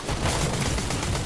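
Rapid gunfire in Fortnite, a dense continuous burst of shots filling the whole moment at steady loudness with no talk over it.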